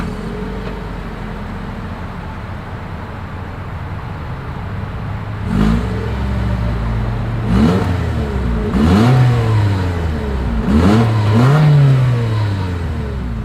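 A 2023 Toyota Corolla Cross engine idles with a low exhaust rumble, then revs up several times in short bursts, each rise and fall clearly audible and close.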